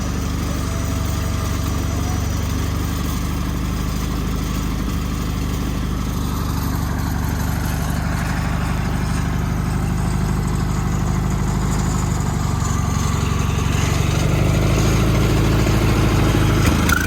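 An engine-driven sawmill cuts old, long-weathered logs into lumber, with a steady droning engine running loud and continuous throughout.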